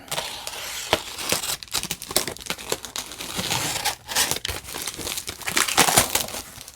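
Big bubble wrap packaging around a comic book shipment being pulled open and handled, continuous close crinkling and rustling with sharper crackles throughout.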